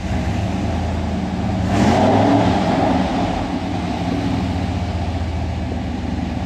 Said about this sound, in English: Give it a couple little revs on this thing.